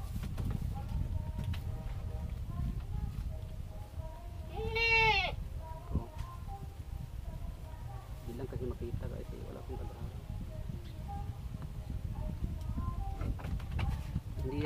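Pet goats kept at home give a single clear bleat in the middle, amid steady low rumbling noise, with people talking nearby.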